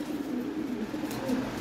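A toy Lahori pigeon coos close by in low, rolling, throaty pulses, with a short rising note near the end.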